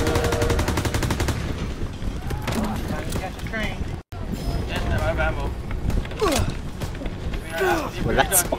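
Call of Duty: WW2 combat with heavy gunfire: a fast early burst followed by scattered loud shotgun blasts, and voices talking over the shooting.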